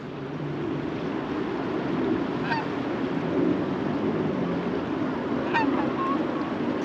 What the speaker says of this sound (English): You got some geese flying right here.